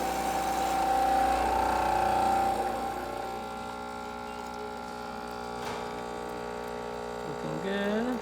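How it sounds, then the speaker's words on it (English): An Olympia espresso machine with newly replaced gaskets pulls a shot, giving a steady electric pump hum that swells at first and then settles into a constant drone, close and alone with no speech. "Okay, so now we're going to pull shot."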